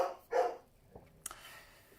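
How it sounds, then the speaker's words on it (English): An excited eight-month-old Black Labrador and German Shepherd cross dog, just in from a walk, gives two short loud barks close by, followed by faint small sounds. "Oh, there's the dog. He's in from the walk and he's excited."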